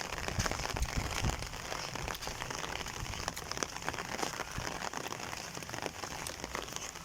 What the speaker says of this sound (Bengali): আষাঢ় মাস, বৃষ্টি নামতেই পারে, এটাই স্বাভাবিক